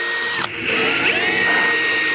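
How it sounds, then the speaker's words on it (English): A power drill with a small bit bores a hole in the centre of a hole already started with a brad point bit, a loud steady whine with a brief dip as the bit bites, then a slow, even drilling drone. "If I do a really small drill bit right in the center,"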